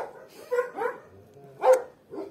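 Dogs at a shelter for homeless dogs barking, a few scattered barks and yips at close range with short gaps between them and no speech.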